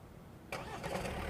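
A Kia Sorento 2021 engine suddenly turns over by remote start and settles into a steady idle, heard from a short distance with a faint hum before it starts.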